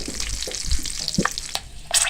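Tadka of red chilli powder and three green chillies sizzling in hot oil for a village-style beef chana dal, a steady close crackle with brief stirring clinks and louder spits near the end, no talking.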